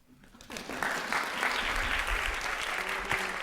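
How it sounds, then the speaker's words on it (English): A lecture class claps together for an equation of the week, steady dense clapping rising within the first second and holding at an even level throughout. "You're all supposed to clap."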